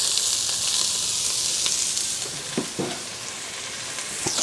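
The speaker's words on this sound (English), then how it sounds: "This is 1 full onion, and I'm just going to go ahead and put this in here. Cook it in the bacon fat as well" A whole onion frying in bacon and brisket fat for Texas-style chili gives a loud, bright, continuous sizzle, with a few spoon scrapes and taps against the pot, no voices.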